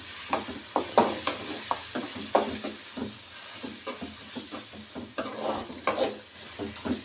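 Spinach puree for a palak aloo matar curry frying in hot oil while being stirred, a steady close sizzle broken by repeated scraping stir strokes, with no talk.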